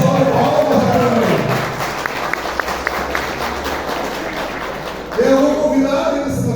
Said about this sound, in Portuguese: Salve de palmas para o nosso convidado